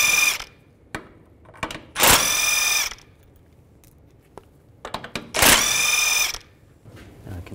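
A power tool with a 16mm socket zips axle nuts off a 2006-10 Volkswagen Jetta front CV axle in two loud, close bursts, separated by softer clicks and taps, with no talk.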